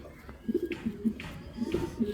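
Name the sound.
racing pigeons cooing in a loft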